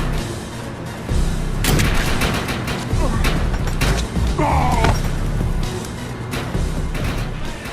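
Gunfire in the online shooter Defiance 2050, rapid bursts of shots crackling through a busy game mix with a loud, steady backdrop and a brief whine partway through.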